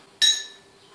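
Bright glass clink rings out once and decays over about a second, made while preparing Cadbury drinking chocolate with milk; a single clear strike with a sustained ringing tail and no talk over it.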